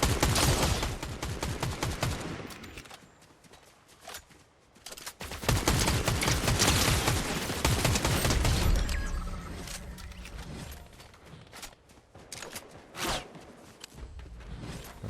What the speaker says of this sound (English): Somebody just tried to shoot me